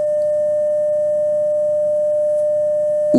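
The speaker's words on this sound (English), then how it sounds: "So every 5 seconds it changes from soft to loud with 10 seconds for a total beat period." Two nearly matched pure sine tones sound together as one steady, loud, unbroken tone, beating very slowly so the level swells gently from soft to loud over the short stretch.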